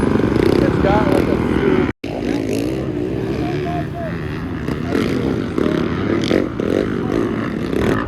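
A Yamaha 450 dirt bike engine drones steadily and loudly at close range, its pitch wavering as it revs, with a voice talking over it and a brief cutout partway through.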